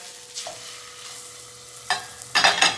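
Wild tuna sears in a Saladmaster pan with a faint, steady sizzle, broken by a few sharp clatters and scrapes near the end as the fish is handled and flipped.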